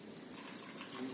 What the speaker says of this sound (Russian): Девушки наливают сами себе.